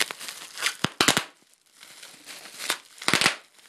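Bubble tape gum being popped and crinkled up close, several sharp bursts and clusters of snapping crackles separated by short pauses, loud and alone with no talk.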